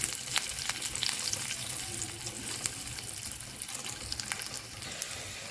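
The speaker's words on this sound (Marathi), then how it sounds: "मोहरी तडतडतीये" Mustard seeds crackle in hot oil for tempering a whole masoor dal dish: a steady close sizzle scattered with sharp, irregular pops, with no voices.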